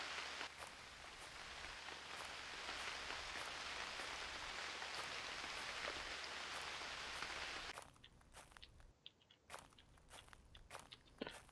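Rain falls in the survival game UnReal World as a steady, dense hiss of drops that stops abruptly partway through, leaving quieter scattered crunching steps and faint ticks.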